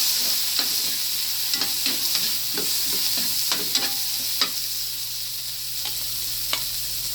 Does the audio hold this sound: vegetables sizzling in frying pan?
yes